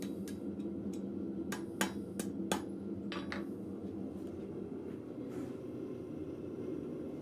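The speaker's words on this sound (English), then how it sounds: "Going over to the anvil and doing any straightening that I need to." A blacksmith hammers hot steel on an anvil to straighten it: a handful of sharp metallic strikes, irregular and spaced, over a steady background rumble in the shop.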